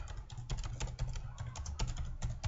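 Quick, close keystrokes on a computer keyboard while entering text into a price table, a steady patter of light clicks under a low hum.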